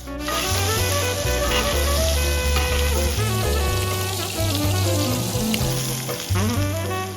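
Steak sizzles in a skillet with rosemary and butter at a car camping meal, a steady crackling hiss that runs continuously at moderate loudness under backing music.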